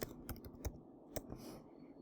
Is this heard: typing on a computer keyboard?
yes